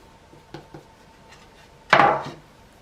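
A palette knife lifts Easter biscuit rounds onto a baking sheet: two light taps, then one sharp metallic clatter that rings out briefly in a quiet kitchen.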